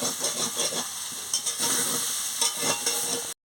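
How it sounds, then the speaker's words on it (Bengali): Soybean chunks and potatoes fry in a hot pan with a steady close sizzle and hiss, broken by a few louder bursts of stirring and spattering, with no voices over it. "ভালো করে সোয়াবিন আলু ভেজে নিচ্ছি"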